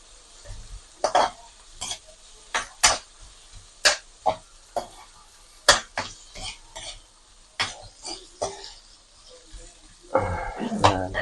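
Frog meat stirred with ginger and chili in a frying pan, a series of sharp scraping strokes over a low steady sizzle, close by, with a cough and brief voice near the end.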